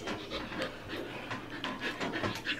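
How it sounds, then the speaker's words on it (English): A dog pants loudly and rapidly up close, with a steady run of quick, breathy huffs and no talking over it. "Her dog is very crazy."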